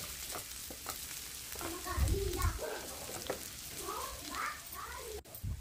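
Chopped onion frying over a medium flame with dried red chillies and green chillies, a soft steady sizzle with occasional stirring in a pan, fairly quiet and continuous.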